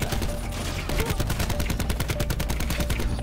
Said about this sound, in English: You did a 9 bang.